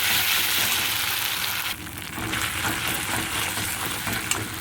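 Ginger paste stirred and frying in a pan for a vegetarian potato, potol and soybean curry: a steady, fairly loud broadband sizzle that dips briefly partway through, then resumes with light scraping of stirring.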